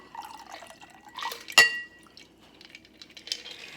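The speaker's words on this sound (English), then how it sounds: "We're gonna strain it with our Hawthorne strainer." A cocktail strained through a Hawthorne strainer into a rocks glass: faint drips and trickles of liquid, then one sharp, ringing clink of metal against glass, with soft liquid sounds continuing afterward.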